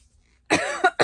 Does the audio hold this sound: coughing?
yes